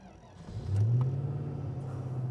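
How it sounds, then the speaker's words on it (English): A TVR Chimaera's engine fires and settles into a low, steady rumble after a short crank, heard close and loud with no voices. "Let's start her up and go for a drive."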